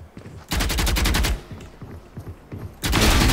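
Gunfire in the video game Valorant, two loud bursts of rapid automatic fire separated by a quieter stretch of scattered shots and clicks, close and punchy.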